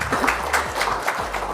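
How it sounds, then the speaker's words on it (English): Audience at an event launching the Zee Classic Bimal Roy Festival bursting into steady, dense applause, moderately loud and continuous throughout. "I think we should give Zee a round of applause for this"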